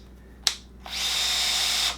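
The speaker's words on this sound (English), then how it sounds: "nice, German brushless. It's got the brake. Nice drill, very nice." A German brushless cordless drill with an electric brake gives a short blip, then spins up and runs steadily at high speed for about a second before stopping, loud and close with no talking.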